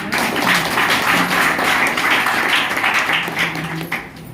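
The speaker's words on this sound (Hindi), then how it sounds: "एक बार अपने लिए ताली बजाइए" An audience at a celebration event in Gurgaon claps steadily and densely for about four seconds, a continuous roomful of hands with no voice rising above it.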